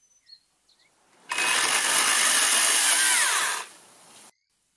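A battery-powered EGO pole saw with a 25 cm oiled bar and chain cuts branches, its motor whining loudly at full speed for about two seconds before tapering off, after faint clicks and handling noises.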